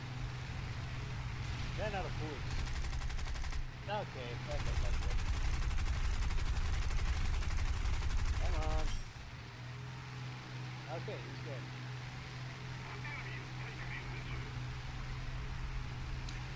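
Aircraft guns fire at an SBD naval bomber in a video game: steady rattling bursts over a constant engine drone, with a louder stretch midway. A person talks throughout.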